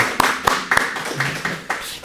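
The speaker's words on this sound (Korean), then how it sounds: "우리 환영의 박수" Church congregation clapping to welcome a visiting guest, a brief scattering of claps with uneven rhythm close by.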